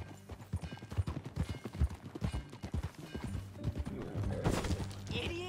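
In Red Dead Redemption 2, a horse's hooves clip-clop rapidly at a steady trot, close and fairly loud, with a brief whinny-like burst near the end.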